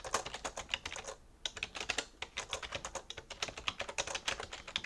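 Fingers type on a computer keyboard in quick irregular bursts of close, crisp key clicks, pausing briefly once before resuming, with no talking.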